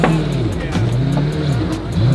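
A Lamborghini race car with a single race clutch idles loud and close, its engine dipping and rising in low revs over steady rumble.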